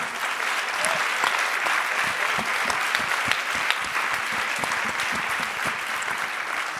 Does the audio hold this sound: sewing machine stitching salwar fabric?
no